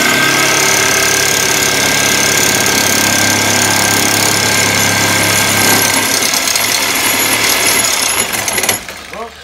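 A jackhammer pounds out loud, continuous, rapid hammering that runs almost unbroken before stopping abruptly near the end.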